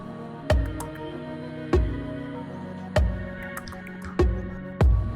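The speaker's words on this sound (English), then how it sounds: "There's the water trying to stay in the sink." Water sloshes back and forth in a sailboat's sink at sea on the Pacific, in regular surges, about five splashy swells evenly spaced over a steady low hum.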